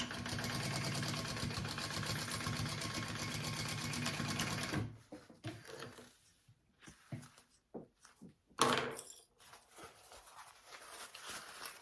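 A home sewing machine stitches the lining of a fabric sling, running loud and steady for about five seconds, then stopping; quieter handling clicks, fabric rustles and a few brief bursts follow.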